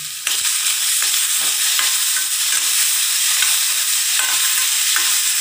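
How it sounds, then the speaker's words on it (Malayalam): Sliced ripe nendran banana sautéed in ghee, a loud continuous sizzle with spatula stirring scrapes and clicks against the pan, heard alone without speech. "എന്നിട്ട് ഞാൻ ഈ മുറിച്ച് വെച്ച പഴം ഇതിലേക്ക് ഇടുക. അതൊന്ന് വഴറ്റണം"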